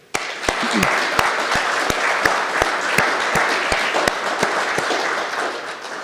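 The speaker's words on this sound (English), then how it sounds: "let's give a round of applause to the Freemasons first of all" An audience at a Freemasons scholarship awards event gives a sustained round of applause, a steady wash of clapping with a few sharp, close individual claps standing out throughout.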